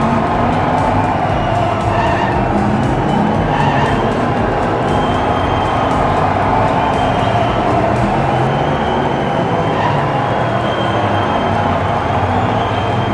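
Diecast miniature Nissan and Chevrolet cars racing down a track in a 1/4 final, a loud, continuous rumbling roll with faint clicks, steady throughout without speech.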